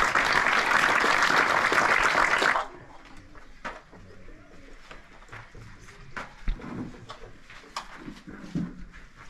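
A burst of applause for prize-winning students at a school in a mountain village in Azad Kashmir, dense and steady for a couple of seconds, then breaking off into scattered claps and quiet room noise.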